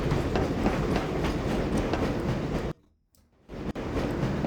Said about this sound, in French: Cette rame assure la liaison entre les dortoirs du niveau 3 et les laboratoires du secteur C